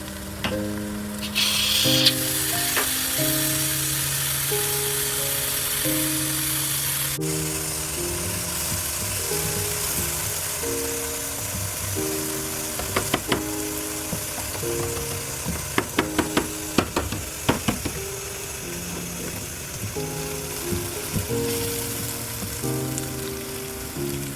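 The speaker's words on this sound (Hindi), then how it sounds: "सामने सब्ज़ मिर्च गर्म हो रही है" Green chilies sizzle as they fry in a pot for mutton yakhni pulao, a continuous soft crackling hiss that runs the whole time under steady background music, with a few sharper pops midway.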